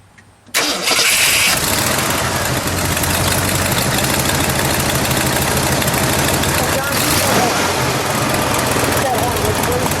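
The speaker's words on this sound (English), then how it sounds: "Let me listen to it idle for a second, Don." A 1966 Ford Galaxie 500 convertible's 7-litre engine with aftermarket headers cranks and catches, then settles into a loud, steady idle close by for the rest of the clip.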